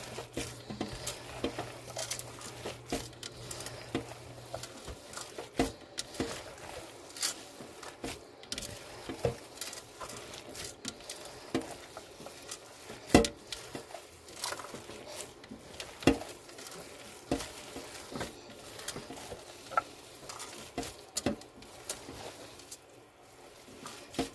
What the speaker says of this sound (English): Just keep kneading the meat until it's all mixed all in together